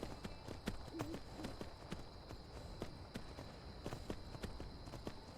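In the Skyrim video game, horse hooves clop in a quick, regular rhythm while the horse runs in place, a fairly faint repeated beat over a soft ambient hum.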